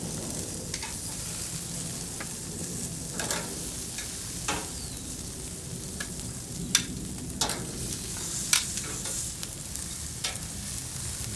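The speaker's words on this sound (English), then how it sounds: "we can fire up our veg skewers" Vegetable skewers sizzling on a Pit Boss grill, a steady close hiss of frying with occasional small pops and clicks throughout, no voices.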